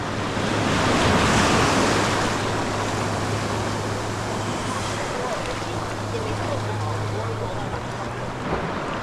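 Ocean waves and heavy swell breaking on a rocky coast during abalone diving at Perth, a steady loud roar of surf with wind buffeting the microphone throughout and a low engine-like hum beneath.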